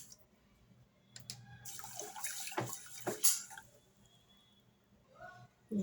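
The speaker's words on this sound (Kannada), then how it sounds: "ಇವಾಗ ಇದು ಮುಳುಗೋ ಅಷ್ಟು ನೀರು ಹಾಕ್ಕೊಂಡು ಬೇಯಿಸ್ಕೊಳ್ಳೋಣ" Water pours into a pressure cooker holding green gram in a home kitchen, a faint splashing gush of a few seconds against a quiet background hum, with brief light clatter.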